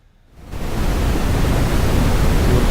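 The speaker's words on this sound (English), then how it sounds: "here I'm using something different, like the brown, which is brown noise. It sounds lower than white noise." Brown noise from a synthesizer's noise generator switches on abruptly after a short quiet moment, then holds as a loud, steady, deep rushing hiss like a waterfall, with no voices.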